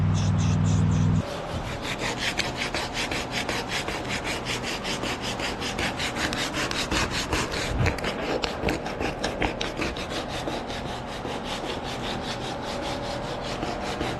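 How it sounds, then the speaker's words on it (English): Steady rapid rasping of sandpaper sanding filler on plastic quad bike body panels, close and continuous after a brief louder hum at the start. "And cut to me sanding again."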